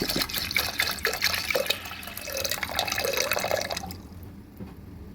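Water runs from a tap into a pressure cooker holding mixed dal and salt, a close, splashy gush lasting about four seconds before it cuts off and leaves quiet.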